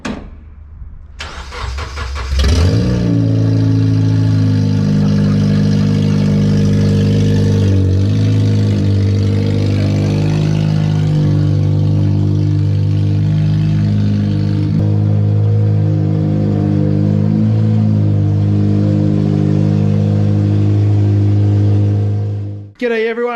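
A K24-engined CL9 racecar cranks and fires up, then settles into a loud, close, rumbling idle with a few blips of revving, sustained for about twenty seconds before cutting off.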